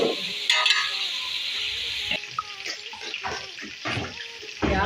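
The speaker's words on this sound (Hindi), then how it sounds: "अच्छी तरह फ्राई करना है।" Onions sizzle steadily in a hot pan while being stirred, with soft scraping and crackling throughout.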